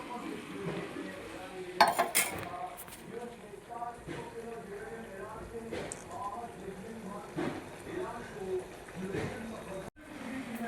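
Bottle gourd greens being flipped and stirred in a pan with a utensil, scraping and clinking sounds repeating irregularly with a faint sizzle, close by, and a voice talking over it.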